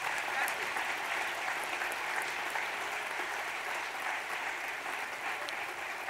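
A theatre audience at an evening of improvised verse applauds steadily, a sustained wash of many hands clapping at moderate distance, even and continuous for several seconds without a break.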